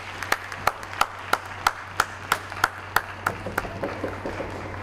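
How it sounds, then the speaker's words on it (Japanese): Applause at the Seto Ohashi Dream Bowl American football game for two award-winning players, heard as loud, evenly spaced claps about three per second over a low steady hum. "両選手に盛大な拍手をお願いいたします。"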